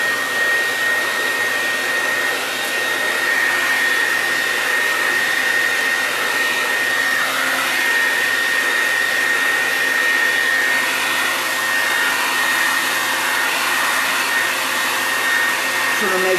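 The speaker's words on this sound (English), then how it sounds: "I'm going to hit it again with the blow dryer again" A hair dryer blows steadily at close range, a loud continuous whoosh with a high whine that holds unchanged throughout.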